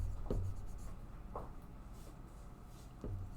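Hand writing during an algebra lesson on arithmetic sequences, with a few short marker or pen strokes spread across the stretch, the loudest near the start and again near the end, over a steady room hum.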